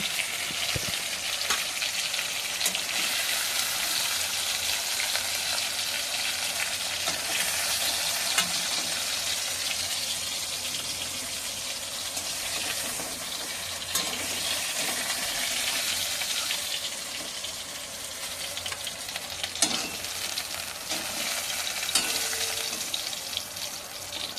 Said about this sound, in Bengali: মাছগুলো লাল লাল করে ভাজা হয়ে গেছে, এইবারে নামিয়ে নিচ্ছি।